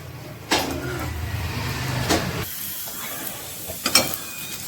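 Egg-stuffed chapathi frying in a pan gives a steady, soft hiss that swells in a few brief louder bursts and then settles into a quieter sizzle.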